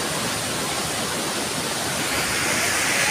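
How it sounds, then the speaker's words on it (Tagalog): A dense, steady rush of fast-flowing water roars continuously, loud and close, like a strong river current swollen by rain at Tinuy-an. "malakas yung current ng tubig"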